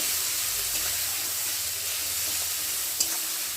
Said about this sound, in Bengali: টমেটোটা একটু ভালো করে নেড়ে নেড়ে গালিয়ে নেব